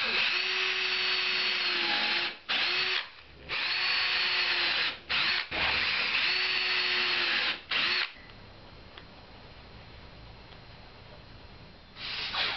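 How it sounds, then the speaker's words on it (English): A power drill whirs in three long bursts with short pauses between them, drilling screw clearance holes in a wooden rail, loud and close, followed by quieter workshop noise. "drilled the holes in the rail larger as clearance holes for the screws"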